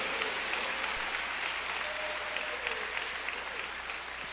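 A church congregation gives sustained applause, a dense and even clapping that continues steadily for several seconds without speech.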